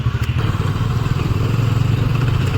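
A motorcycle rides along with a steady, loud low engine drone and some clatter throughout, no talking.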